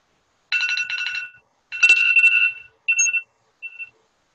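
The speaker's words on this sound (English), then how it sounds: "That's my alarm." Phone alarm ringing close by in a quiet room, a bright electronic tone pattern in four bursts with short gaps, the last ones shorter and softer.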